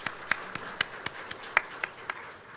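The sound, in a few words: congregation applauding in church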